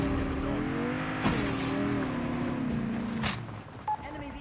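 An in-game vehicle engine hums steadily with a slowly wavering pitch through most of the moment, with brief clicks and a short beep near the end, during a squad-based battle royale match with chatter among clan mates.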